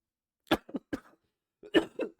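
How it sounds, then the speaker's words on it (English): A man coughs in two clusters of short, sharp coughs with a pause between them, close and dry-sounding, as if clearing an irritated throat. "Why have I still got this cough?"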